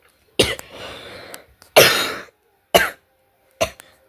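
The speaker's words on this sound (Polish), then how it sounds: "Czemu tak kaszlesz, dziewczynko?" A girl coughs in several separate harsh bursts, a longer fit followed by shorter single coughs, close and alone with quiet gaps between.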